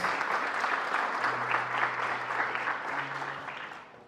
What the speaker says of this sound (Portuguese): Vamos aplaudir o apóstolo Paulo?